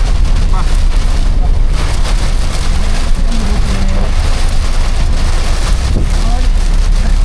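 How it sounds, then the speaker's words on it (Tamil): Heavy rain driven by strong wind pours down along a road, a dense, steady roar of rainfall and gusts that runs unbroken throughout, with faint voices mixed underneath. "இப்போ பாருங்கள் வர்ற வழியில எந்த அளவுக்கு மழை அடிக்குதுன்னு அப்போ காற்று மழை கடுமையாக அடிக்குது"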